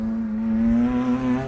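A cheap track-ready race car engine roars steadily nearby with a strong droning tone, pitch rising and dipping slightly as the driver works through gear shifts, with no talk over it.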